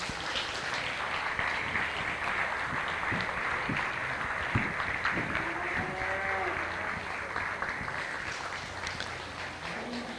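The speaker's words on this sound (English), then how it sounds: "let's stand up and give a huge round of applause, a standing ovation to all of these kids that are here in the ring" Crowd applause rises for the youth exhibitors at a county 4-H show ring, a dense steady clapping that runs the whole time, with livestock calls and scattered voices mixed underneath.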